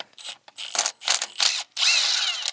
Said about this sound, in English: put the nut on this side of it, and then we're going to go ahead and torque it down